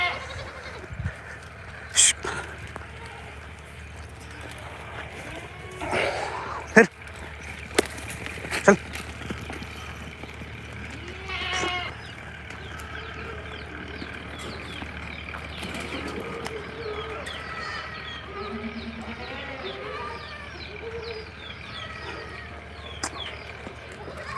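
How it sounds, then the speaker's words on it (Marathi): Goats bleat in a shed on a goat farm: scattered, fairly faint calls over a steady background, with a few sharp knocks and hoof-like clops and occasional faint voices. "ह्या शेळ्या इकडच्या कप्प्यात येऊन द्यायच्या नव्हत्या अजिबात"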